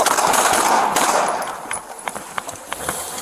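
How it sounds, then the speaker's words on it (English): Gunshots ring out during a police arrest: a burst of sharp, irregular bangs, several in quick succession, cutting through a noisy, chaotic background with no speech over them. "Shots fired. Shots fired."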